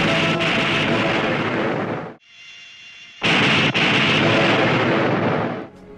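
A spaceship exploding in the 1965 film Godzilla vs. Monster Zero: a loud, sustained roaring blast that cuts off abruptly, leaving a faint lingering tone, then a second heavy rumbling explosion that rolls on before fading out.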